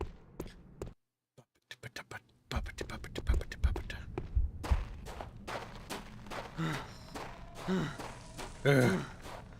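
A player character panting in the first-person fantasy action game Dark Messiah, with breathy, uneven gasps and sighs over game sounds that build toward a louder, strained breath near the end.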